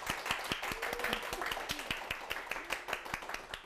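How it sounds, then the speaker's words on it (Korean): An audience at a lecture show applauds, with dense steady clapping from many hands, fairly close and even throughout. "큰 박수 부탁드릴게요"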